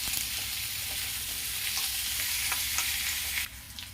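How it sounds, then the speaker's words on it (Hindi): Sliced onions for chicken do pyaza frying on a high flame, a dense steady sizzle with faint scraping stirs and a low burner rumble, close and without voices, shifting abruptly near the end. "प्याज को बहुत डीप ब्राउन नहीं करना है, गोल्डन ब्राउन होगा उतना भूनूंगी"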